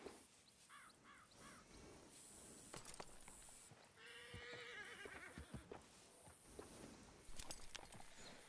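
Shire horse in Red Dead Redemption 2 whinnying in short bursts amid clopping hooves and other animal calls, with ambient outdoor game sound throughout.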